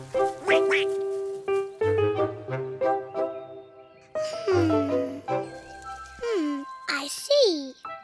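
A cartoon duckling quacks several times in a bright, nasal, high-pitched voice, trading short calls with a cartoon character's speech and soft musical chimes in a playful children's animation scene.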